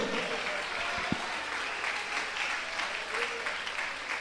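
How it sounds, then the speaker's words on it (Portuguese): Worshippers at an IPDA Bible study applaud the name of Jesus Christ in a continuous, busy burst of crowd clapping at moderate volume, with one brief low thump early on and a faint murmur of voices beneath. "Então aplaude o nome de Jesus Cristo"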